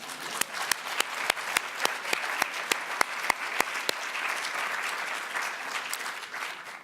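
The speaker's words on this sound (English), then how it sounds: "That's worth an applause." A room of attendees at the 2017 Mississippi on the Potomac program applauds, opening with a few sharp, distinct claps that quickly swell into dense, sustained clapping.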